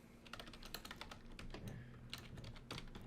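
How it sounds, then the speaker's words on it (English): Soft, quick keystrokes clatter in irregular bursts on a computer keyboard while C# code is written for a Unity game, faint and close with no voices. "I'm just going to type it out."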